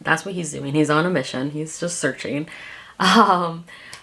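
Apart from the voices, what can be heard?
None of the usual background noises is heard.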